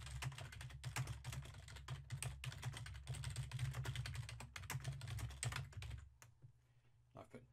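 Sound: typing an email subject on a computer keyboard

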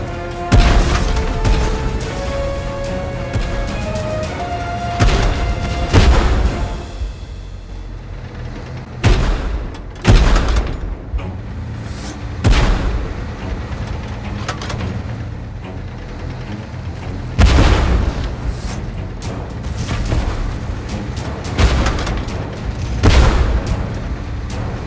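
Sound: artillery bombardment explosions in a video game

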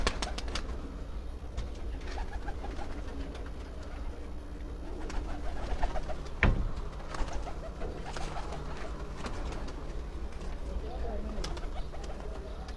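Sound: pigeons cooing on a rooftop

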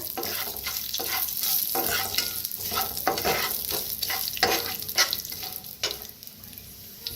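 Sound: ground coriander roasting in hot oil

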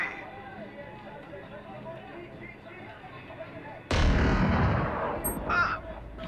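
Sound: gunshots in a video game

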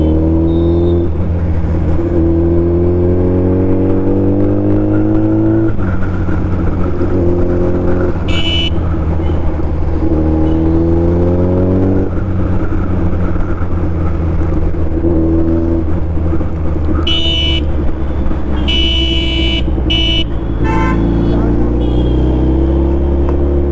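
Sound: Suzuki Hayabusa motorcycle engine revving and racing

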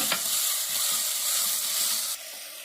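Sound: crushed shallots sautéing in a pan

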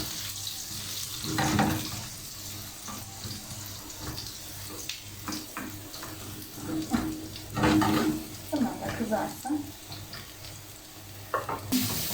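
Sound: eggplant frying in oil in a pan

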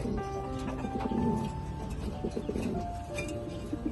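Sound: racer pigeons cooing

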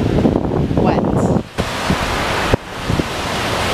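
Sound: ocean waves on a Miami beach

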